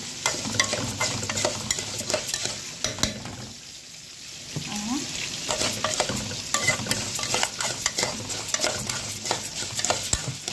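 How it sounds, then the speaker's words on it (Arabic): Breaded chicken and cooked potatoes are stirred in a frying pan, a utensil scraping in repeated strokes over a soft, continuous sizzle, with brief quiet talk. "هقلب معاكم اهو"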